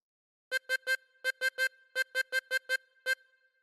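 A harmonica plays the Old MacDonald Had a Farm phrase alone and close up, eleven clear blown notes in short groups of three and four with brief pauses between them.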